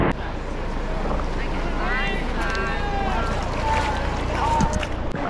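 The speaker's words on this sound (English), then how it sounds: "Keep paddling, you gotta paddle." A boat crew paddles in open water outdoors, with watery splashing and wind buffeting the microphone throughout, while people shout and talk over the strokes.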